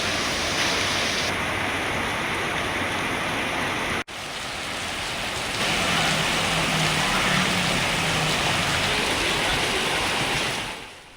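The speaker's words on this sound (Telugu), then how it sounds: "అర్ధరాత్రి కూడా నగరంలో భారీ వర్షం పడింది." Heavy rain pours over Hyderabad at night, a loud dense roar of water that stays continuous throughout, dipping for an instant before swelling again, with no voices.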